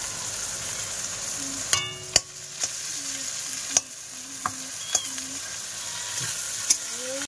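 Chopped onion and crushed garlic sizzle in hot oil while being stirred, a close steady frying hiss broken by repeated scraping and clinking strokes of the spatula against the pan.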